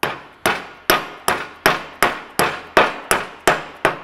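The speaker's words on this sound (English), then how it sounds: "I'm just using a rubber mallet." A rubber mallet strikes about ten times at a steady, even rhythm, pressing a bracket into an AEV tire carrier on a Jeep. Each blow is a sharp, close knock that quickly fades.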